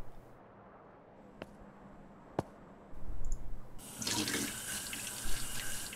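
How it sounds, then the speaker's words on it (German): A sink tap in the Infliction video game clicks a few times, then water gushes out and runs steadily, loud and close, with no voices. "Wasser funktioniert aber, ist schön."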